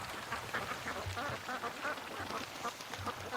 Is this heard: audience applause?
no